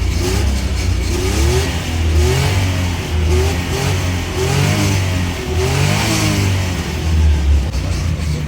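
A Suzuki Multicab engine revs under load while climbing uphill, a steady mid-pitched drone that swells and eases in repeated surges, close and loud throughout.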